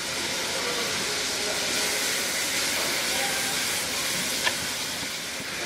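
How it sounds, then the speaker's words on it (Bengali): Chicken sizzles in a pan with chopped ginger and garlic, giving a dense, steady hiss and crackle that holds evenly throughout, close and moderately loud, with no voices over it. "এখন এর মুরগিটার সাথে এটাকে মিনিট 2 আমি ভেজে নিব, আদা রসুনগুলো ভালো মতো একটু ভাজা ভাজা হয়ে যায়"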